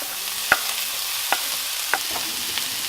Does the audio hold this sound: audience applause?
no